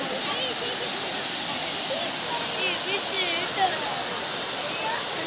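Steady broadband rush of water from Perumbankuthu waterfall in the Mankulam forest during summer low flow, a continuous even roar filling the whole clip with no breaks.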